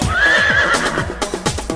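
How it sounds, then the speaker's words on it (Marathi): A horse lets out a loud, close, high-pitched whinny, followed by a few hoof clops. "हिन हिन करता घोड़ा भागे"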